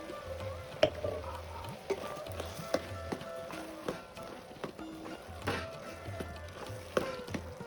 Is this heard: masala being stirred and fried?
yes